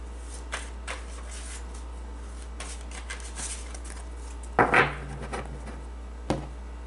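Vintage oracle cards being shuffled by hand, a few light riffles and taps building to a louder, crisp flurry of shuffling, then a final soft snap.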